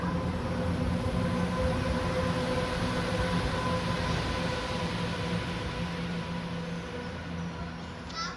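A train rolls over Knaresborough Viaduct, heard from a distance as a steady, fairly faint rumble with sustained tonal whine that fades slightly toward the end.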